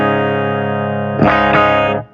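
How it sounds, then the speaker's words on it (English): An electric guitar chord rings through a Marshall Plexi amp set for a clean tone. It sustains loud and steady, with a couple of strummed accents before it fades out. "The Marshall, bizarrely, is our clean sound."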